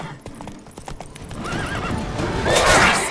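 A horse in The Witcher 3 video game gallops with quick clip-clopping hooves and lets out a loud whinny partway through, the hoofbeats growing denser and louder toward the end.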